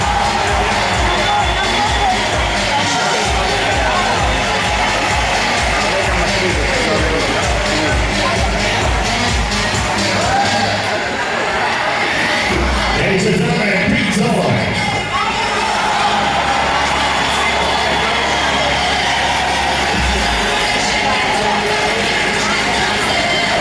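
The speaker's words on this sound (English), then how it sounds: "Big round of applause for Miss Curly Nicholas Bond." Crowd cheering and applause from a beauty pageant audience in a hotel venue, loud and continuous, with an announcer's voice over it and music playing.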